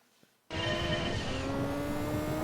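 A rally car engine in Gran Turismo 2 on the Smoky Mountain course roars up abruptly from near silence into a loud, sustained rasping drone with whining tones, alone without voices.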